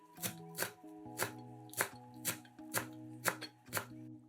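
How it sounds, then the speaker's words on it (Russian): Close, evenly spaced knife chops on a board finely chopping dill, around ten sharp strikes at a steady quick rhythm, soft and without any voices. "Пучок укропа мелко нарезаем ножом."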